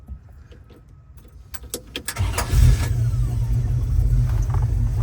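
A 1929 Ford Model A pickup with a 350 engine cranks and fires up about two seconds in after some light clinking, then settles into a loud, steady, rumbling idle close by.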